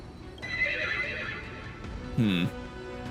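A horse neighs and whinnies in the video game Honkai: Star Rail, a loud drawn-out call with a sharp final whinny, over ambient game music.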